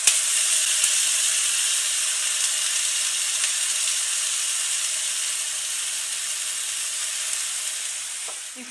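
Aubergine slices browning in olive oil in a pan for moussaka give a steady, close sizzle and frying hiss that holds evenly throughout, with no talking.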